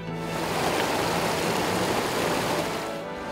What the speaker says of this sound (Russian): Вода шумит так, что рядом стоящие люди с трудом услышат друг друга.